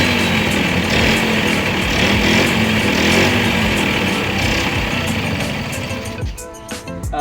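A Honda MT50 cafe racer motorcycle engine runs loud and close with a steady buzzing drone, then falters and drops toward an uneven idle near the end.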